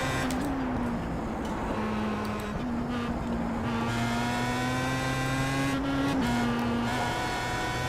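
A Pro Mazda race car at Barber in the iRacing sim, its engine droning loud and continuous with steady pitch that climbs and drops through gear changes and throttle, close and alone without talk.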